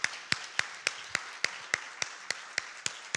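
Sparse, evenly spaced claps at a photography talk, about a dozen sharp hand claps in a steady rhythm over a few seconds, close by and fairly loud, with no crowd swell behind them.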